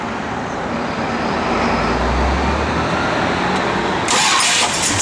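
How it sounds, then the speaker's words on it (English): A 1973 Plymouth Road Runner with a pump-gas engine and a mild cam cranks and fires up close by, settling from a low starter rumble into a steady running engine note. "Go ahead and start up."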